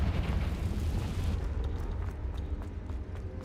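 An explosive blasting spell goes off in a Harry Potter video game: a heavy rumbling boom that rolls on and slowly fades, then light crackling debris pops scatter through the tail.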